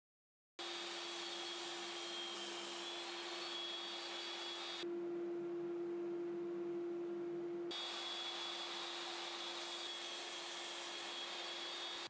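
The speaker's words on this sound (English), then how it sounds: "I'll start by cutting all the necessary parts to build the lower frame of the table." A power tool cutting wood parts for a folding workbench table frame runs as a continuous steady whine for about eleven seconds, loud and close, with a brief change in tone partway through and no talking.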